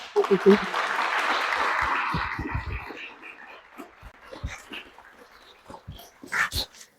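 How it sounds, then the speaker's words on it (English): Brief applause from attendees at the Lucketts Route 15 community workshop, a short burst of clapping that tapers off within a few seconds, followed by scattered sounds and a voice. "please acknowledge them with a round of applause for the work they've done"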